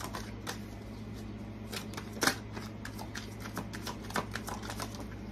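Close, soft riffling and tapping of tarot cards being shuffled during a reading, a steady run of light clicks with one sharper snap, heard alone over a low background hum.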